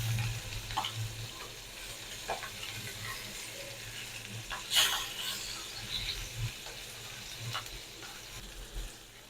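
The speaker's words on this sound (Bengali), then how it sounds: "এপাশ ওপাশ করে ভালো করে ভেজে নিচ্ছি" Rohu fish fries in hot oil in a home kitchen, a steady close sizzle and crackle with brief louder spatters as the pieces are turned from side to side.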